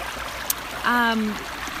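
A stream flows in Ojai with a constant close hiss and gurgle throughout. A voice briefly sounds over the water partway through.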